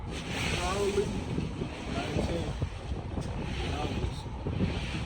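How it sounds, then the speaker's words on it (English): Wind gusting outdoors, a loud, constant rushing roar buffeting the microphone, with a voice faintly mixed in underneath. "It's probably kind of windy out here."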